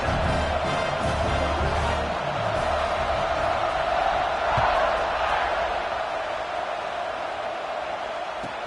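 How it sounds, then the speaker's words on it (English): A packed college football stadium crowd at Notre Dame roars steadily before a kickoff, a broad, continuous wall of cheering and noise that swells slightly midway and holds for the whole stretch, with commentary faintly beneath it. "this crowd now ready to get behind them"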